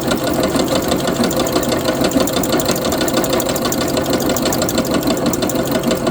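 A new label-making machine runs fast, giving a loud, steady, dense mechanical clatter and hum that stays constant throughout, close by and with no voices.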